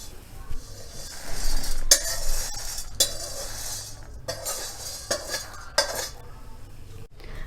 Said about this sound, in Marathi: साबुदाणा भाजून घेतलेला आहे आता तो काढून घ्यायचा आहे